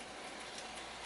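A J72 model train running along its track, a steady, even, continuous hiss and rumble with no distinct clicks, faint and unbroken.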